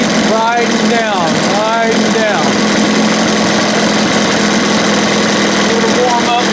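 1977 Evinrude 15 hp outboard motor idling with a steady, buzzing drone, close and constant, while someone talks over it in a couple of short bursts.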